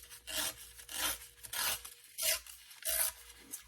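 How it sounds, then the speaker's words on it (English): Paper piano roll torn slowly by hand in a crafting session, five separate dry ripping strokes close up, each a short rasping tear with brief pauses between, no voices. "I'm just going to tear it down and go a little bit farther because I'm right on that line there"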